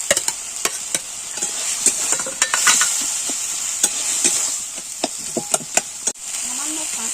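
Greens curry of chikni saag being stirred and fried in a pan, with a steady sizzle under repeated sharp scrapes and clacks of the spoon against the pan.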